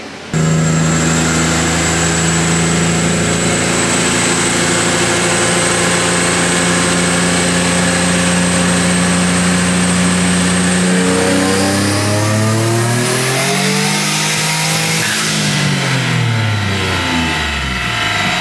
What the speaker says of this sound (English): We'll go make a dyno pull right now and see what the back pressure is.